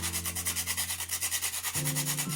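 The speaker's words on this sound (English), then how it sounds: "I have 1/2 of a nutmeg that I'm gonna grate." Half a nutmeg grated by hand in a home kitchen, a quick, even rhythm of close rasping strokes over a low steady hum.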